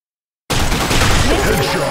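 Dense gunfire from a competitive Blackshot match bursts in loudly after half a second of silence and rattles on without a break, with faint voice traces mixed into the clatter.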